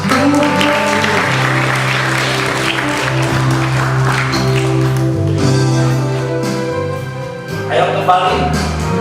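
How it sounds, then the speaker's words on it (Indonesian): A church congregation at a holiday Bible school worship session claps in sustained, loud, steady applause over continuing background music, with a faint voice briefly rising near the end. "Tepuk tangan bagi Tuhan Yesus."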